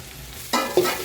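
Spices for a duck curry sautéing in a pan: a quiet hum, then a sudden burst of sizzling at mid-clip followed by a brief scrape of stirring.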